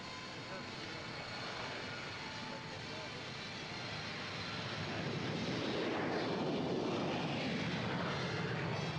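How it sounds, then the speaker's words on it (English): A private Boeing 747 jet waits on an airport apron, its engines giving a steady, distant roar that swells slightly louder midway and holds, with no talk over it. "His Majesty King Khaled's private Boeing 747 waits on the tarmac"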